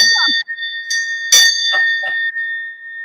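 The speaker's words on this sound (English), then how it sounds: "And that's where the bell came from." A small bell rings out with a clear, sustained metallic tone, struck a few times in quick succession so the rings overlap and fade, loud and close with nothing else heard.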